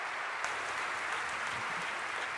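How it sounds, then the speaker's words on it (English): Applause from a lecture audience honoring young community members, steady dense clapping filling the room at moderate level with no talk over it, continuing throughout. "Give them all a round of applause."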